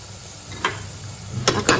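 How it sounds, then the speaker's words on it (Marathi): Thinly sliced onion fries in green masala, a low sizzle broken by a few quick scraping stirs of a spoon against the pan. "हिरवा मसाला छान परतायला लागला की त्यामध्ये हा उभा पातळ चिरलेला मी लांबसर कांदा घालून घेते मस्त।"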